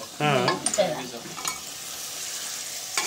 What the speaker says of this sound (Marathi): मांडव ते असं छान तेलात ना परतून घेते बघा